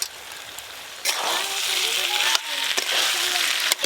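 Fried mixed vegetables dropped into hot oil and spice masala, setting off a loud close sizzle that swells after a thump and holds steadily with stirring clatters, as someone talks over it.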